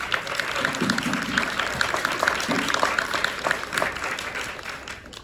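An audience applauds at a talk on Afrofuturist art. Dense, steady clapping from many hands fills the room and fades slightly at the end.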